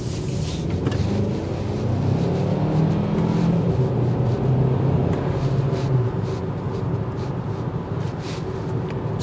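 A 2024 Hyundai Kona N-Line driven in sport mode gives a steady, close engine and road rumble that holds level throughout with no voices.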